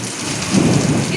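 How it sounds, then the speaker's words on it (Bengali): Heavy rain with large drops pours down steadily and loudly close by during an afternoon storm, a dense continuous hiss with a low rumble swelling midway. "ভালো বড় বড় ফোঁটার বৃষ্টি পড়ছে"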